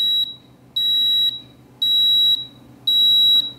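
Electronic beeping from an ultraviolet lamp ballast during its reset procedure: four loud, shrill high-pitched tones, each about half a second long, repeating at a steady rhythm close up with nothing else audible.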